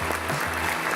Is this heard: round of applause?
yes